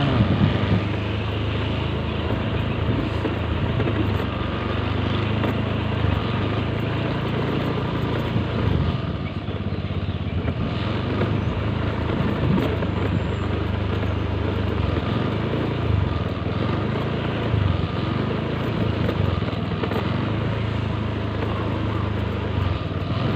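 Motorcycle riding along a rough road toward a beach, its engine a steady, loud drone with wind rumble throughout, no talk heard.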